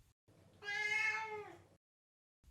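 A skinny cat in Sovetskaya gives a single clear, drawn-out meow lasting about a second, close and moderately loud against near silence.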